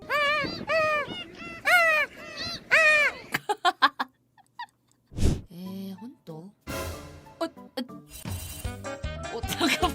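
A person's voice imitates a seagull's call in a series of rising, whiny squawks, then breaks off into laughter and scattered noises from a casual livestream setting.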